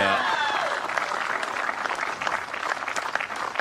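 Crowd applause at the 2016 World Bowls Championships men's pairs final, a steady dense clapping filling the whole stretch at even loudness, with commentary voices running faintly over it.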